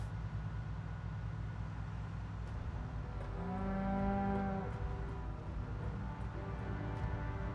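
A cow lows once in the Project Zomboid video game, a drawn-out moo of about a second and a half rising over a steady, dense background drone of ambient game sound.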